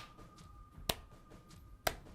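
Two sharp, isolated claps ring out about a second apart in the video game 999, crisp and distinct against a quiet, faintly humming background.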